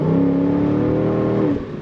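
A 2010 Chevrolet Corvette Grand Sport Convertible's engine pulls hard under throttle, a loud, close, sustained rising drone that eases off abruptly near the end.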